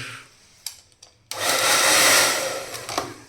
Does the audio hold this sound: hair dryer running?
yes